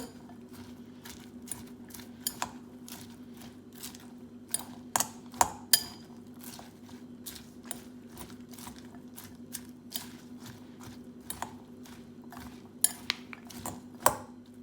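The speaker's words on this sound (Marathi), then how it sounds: "तें सगळें बरे भाशेन मिक्स कर." Utensils clinking and tapping against a bowl as chickpea salad is mixed by hand, repeated light clicks in an irregular rhythm over a steady low hum.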